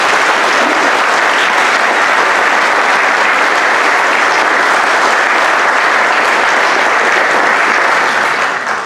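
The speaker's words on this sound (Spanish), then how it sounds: "dé un aplauso al Señor" A church congregation breaks into loud, sustained applause, a thick unbroken roar of many hands clapping close and alone, holding steady before easing slightly at the end.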